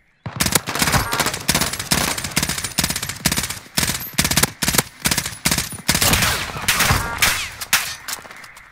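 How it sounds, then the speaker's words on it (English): Rapid automatic gunfire from the Call of Duty Warzone video game, loud dense bursts of repeated shots close by, firing almost continuously with brief gaps throughout. "And he's shooting close."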